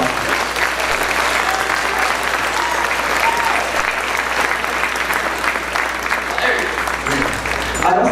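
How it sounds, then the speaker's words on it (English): A school band concert audience gives a sustained round of applause for two music teachers during a middle school winter concert. The dense clapping holds steady for several seconds, with faint crowd murmur underneath. "Let's give Mr. McGaffey and Mr. Nesto a round of applause."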